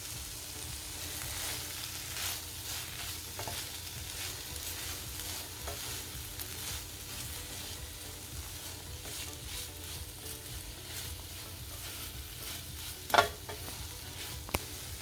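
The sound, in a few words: chopped bok choy stir-fried with bulgur in a pan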